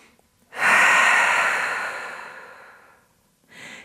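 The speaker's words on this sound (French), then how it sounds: "grande expiration par la bouche de nouveau." Deep exhale through the mouth during yoga: one long, loud, close, breathy rush of air that fades over about two and a half seconds, followed by the start of a shorter breath.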